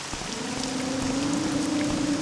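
Steady rain hisses over the Morrowind town of Balmora, a continuous even patter with a faint low tonal hum running beneath it, no voices.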